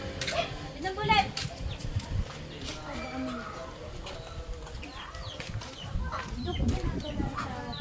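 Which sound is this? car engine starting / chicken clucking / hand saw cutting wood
chicken clucking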